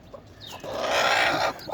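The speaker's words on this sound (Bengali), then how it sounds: "আমার আরও দুইটা মুরগির বাচ্চা ফুটে বাহির হয়েছে" A hen with two newly hatched chicks clucks close by in a backyard flock, a short burst of rapid fowl vocalizing that swells and then stops, heard alone without speech.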